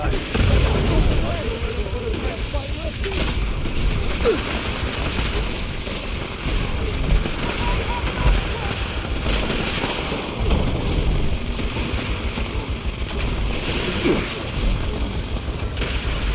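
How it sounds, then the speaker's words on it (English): Rocket launcher blasts and explosions in the video game Fallout 76 rumble through a dense, steady battle din with repeated heavy booms, while a voice talks over the action. "These things use rocket launchers."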